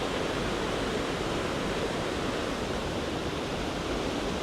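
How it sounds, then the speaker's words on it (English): Steady broadband rush of water draining from a city lake into a drainage channel, a constant loud roar with no breaks or other sounds. "I guess a little drainage going into a different part of the city. Currently draining somewhere."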